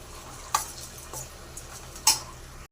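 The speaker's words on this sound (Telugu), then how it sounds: "ఇప్పుడు అన్నీ వేసుకొని కలిపేసుకోవాలి" A spoon clinks sharply twice against a pot while spices are stirred into bottle gourd (sorakaya) curry, with faint scraping between the strikes.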